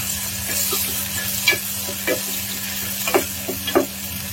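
Two sliced onions dropped into hot oil for mutton kulambu sizzle steadily up close, with a constant frying hiss broken by a few scrapes and stirring clatters.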